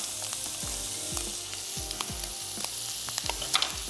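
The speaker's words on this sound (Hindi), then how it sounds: "बीफ के साथ मैं वेजिटेबल्स ऐड कर देती हूँ ताकि वो भी स्टर फ्राई होना शुरू हो जाए" Bell peppers and carrots stir-fry with beef in a hot pan, giving a constant close sizzle broken by rhythmic scraping strokes of a spoon, about one every half second.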